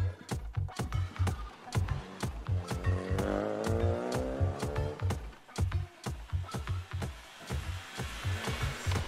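A Renault Clio Rally5 rally car on a special stage of the Rallye du Chablais at Champéry, its engine revving hard and rising in pitch under a steady, rapid mechanical pulse, close and loud throughout.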